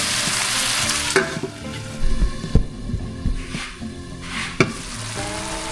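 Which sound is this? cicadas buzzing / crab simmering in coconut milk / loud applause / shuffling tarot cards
crab simmering in coconut milk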